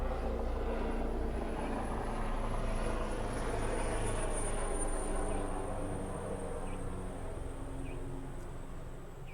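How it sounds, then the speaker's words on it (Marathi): A helicopter drones overhead above a farmhouse in Borivali, Mumbai, with a steady, humming engine and rotor noise that fades slightly toward the end, with faint insects in the background. "आताच मित्रांनो वरतून हेलिकॉप्टर गेली"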